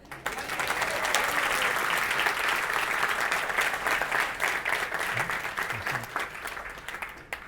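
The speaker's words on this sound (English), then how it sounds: "You should clap because it's amazing." An audience at a talk in Hyderabad, South India, breaks into applause, a moderately quiet but steady patter of many hands that swells quickly, holds for several seconds, then thins out.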